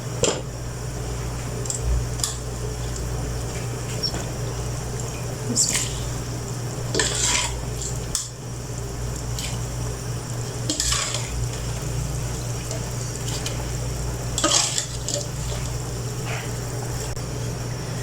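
Rice poured into boiling salted water and stirred with a spoon in a cooking pot for chicken chana pulao, bubbling hiss with intermittent scraping and clinking of the spoon against the pot, no talking.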